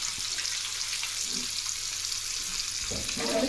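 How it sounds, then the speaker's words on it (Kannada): Fish frying whole in a pan of hot oil, a loud, steady sizzle and crackle running the full length, with a brief clatter near the end and no talking. "ಮೀನು ಫ್ರೈ ಮಾಡ್ತಾಯಿದ್ದೀನಿ"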